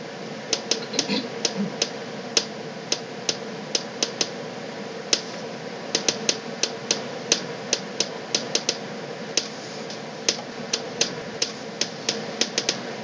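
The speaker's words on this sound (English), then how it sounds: "That's the sound of a major triad in rhythm." Sonified planetary orbits: sharp, clicking pulses tick over a steady hum in an irregular, interlocking rhythm, overlapping beat patterns forming a major triad in rhythm.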